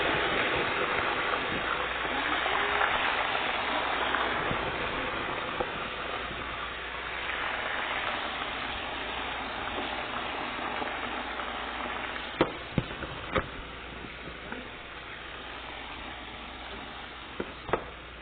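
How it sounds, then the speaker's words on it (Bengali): Chopped vegetables sizzle in hot oil with a steady, dense frying hiss throughout, broken by a few sharp clinks of a utensil against the pan toward the end. "এই তো আমি এগুলো তেলে বেঁধে নিচ্ছি"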